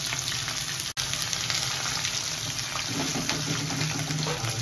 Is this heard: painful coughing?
no